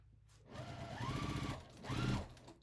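A sewing machine stitches an apron seam in two close, moderately quiet runs of steady whirring, with no one talking.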